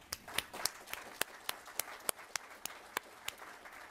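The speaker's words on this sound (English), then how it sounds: "A round of applause." Sparse, distinct handclaps at a symposium, a dozen or so evenly spaced claps from a few audience members, fairly faint and without speech.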